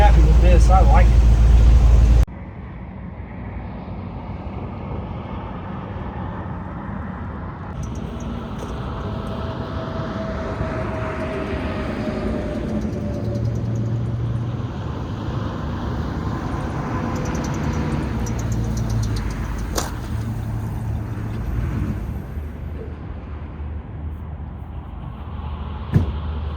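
A Chevrolet Blazer engine runs continuously at close range, a steady mechanical drone that rises and falls as it shifts, with the transfer case running a little loud.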